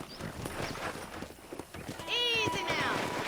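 Horse hooves clip-clop at a ranch in the Red Dead Redemption video game, soft rhythmic steps under a talking voice, followed by a short whinny near the end.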